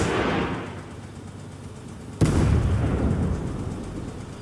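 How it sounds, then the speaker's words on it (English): A 220 mm rocket launcher in a video game fires with one sudden loud blast partway through, followed by a heavy rumbling roar that slowly fades over a steady low background. "It's a launcher, it's a rocket launcher, it is not stealthy."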